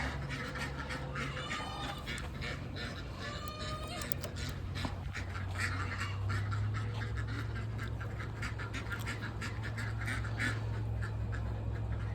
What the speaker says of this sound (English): let's release the ducks